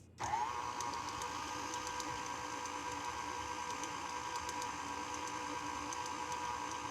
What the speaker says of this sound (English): I'll use the hook attachment, making the dough nice and stretchy.